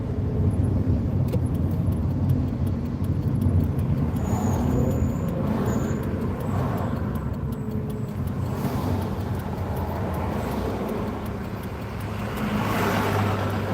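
Worn brakes and rotors on an RV squeak and squeal intermittently while driving along a road, over steady engine and road rumble.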